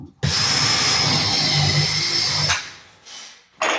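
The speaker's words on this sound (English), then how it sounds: "drill your hole" A power drill whines loudly and steadily for about two seconds while boring a plug hole in a walnut-plugged ranch plank floor, then cuts off, followed by brief quieter bursts of handling noise.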